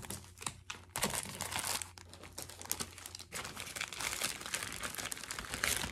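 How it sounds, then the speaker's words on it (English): Stamp sets being put back into a bag make close, irregular crinkling and rustling of plastic packaging, with sharp crackles and brief pauses. "I'm sorry about all the rustling around, but I really want to put these back in the bag"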